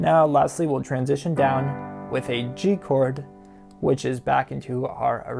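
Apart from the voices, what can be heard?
None of the usual background noises is heard.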